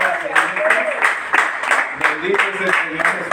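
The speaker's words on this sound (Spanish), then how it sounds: "Démosle un aplauso fuerte en esta mañana." A congregation claps during a Spanish-language church service, a short burst of brisk clapping mixed with voices and cheering.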